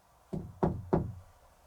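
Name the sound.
knocking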